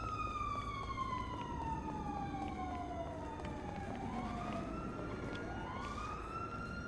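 An ambulance siren in the video game GTA V wails steadily with long falling and rising sweeps, heard at moderate distance over a continuous low engine and road rumble.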